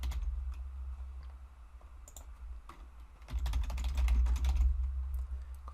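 Typing on a computer keyboard, a quick patter of close, light key clicks in uneven bursts over a low steady hum, with no talk.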